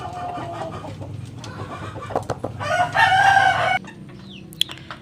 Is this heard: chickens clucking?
yes